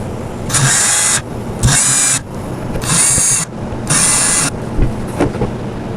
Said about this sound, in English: we're just going to put those same 4 screws in, just like we did the footboard, and screw those into place